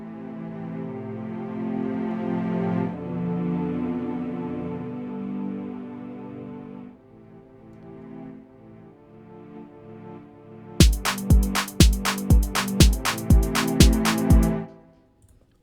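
A synth-pad chord progression made in FL Studio plays on its own, its sustained chords changing every few seconds before punchy drum hits break in with a rhythmic, steadily building pattern near the end.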